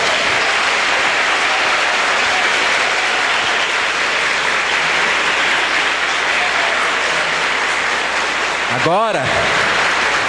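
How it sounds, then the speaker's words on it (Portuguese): A church congregation applauds during a sermon, with dense, loud clapping sustained for about ten seconds. A voice briefly cuts in near the end. "Você pode aplaudir a Jesus?"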